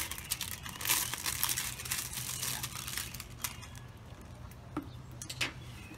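Scissors snip and a plastic label crinkles and tears as it is cut and peeled off a clear container, a steady close rustle with a few sharper crackles.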